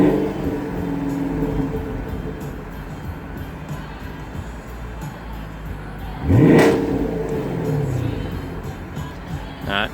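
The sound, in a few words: 2016 Chevrolet Camaro 2SS engine revving in park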